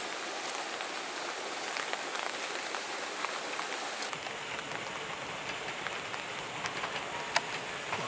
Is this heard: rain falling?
yes